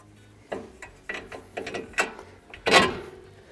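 A hand ratchet clicks in several quick, close bursts while a nut is turned off a tie rod on a Ford Ranger's front suspension, the clicking sharp and alone.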